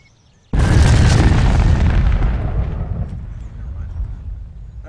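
A bomb from the Garry's Mod gbombs addon detonates in a video game: a sudden, loud, deep boom that rolls on as a long, fading rumble over several seconds, with no voices.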